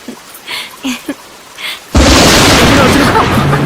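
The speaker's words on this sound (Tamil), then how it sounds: "உனக்கு மழையில நனையிறதுனா ரொம்ப பிடிக்குமா" After a few seconds of people talking, heavy rain suddenly bursts in as a loud, dense, steady hiss that continues to the end.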